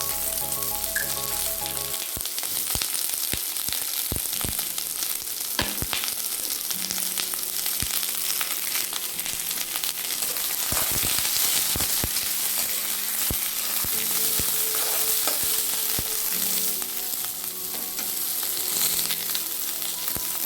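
Three medium onions, chopped, fry in hot oil for a banana stem chutney, making a loud, continuous sizzle and crackle throughout, with a faint low hum at the start.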